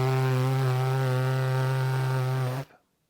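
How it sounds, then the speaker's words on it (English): A firm trombone lip buzz into the mouthpiece holds one steady, sustained pitch for over two seconds, loud and close, then cuts off abruptly into silence. "If we make it even firmer, we get a buzz that sounds more like when we play."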